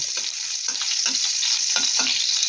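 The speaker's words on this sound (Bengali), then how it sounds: "রসুনটাকে তেলের সাথে ভালো করে ভেজে নেব" Crushed garlic fries in hot oil with a cumin and whole dried red chilli tempering, giving a loud, continuous sizzle with rhythmic stirring scrapes, close and alone.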